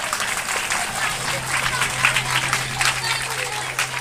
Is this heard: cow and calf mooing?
no